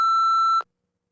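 A single clean electronic beep marks the start of a timed TOEFL test response. The steady, mid-pitched tone is loud and close, lasts just over half a second, and is followed by silence.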